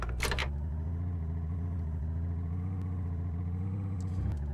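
In DayZ, a car engine rumbles steadily at a mid-pitched drone through a handbrake turn, with a brief clatter at the start and faint rattles near the end.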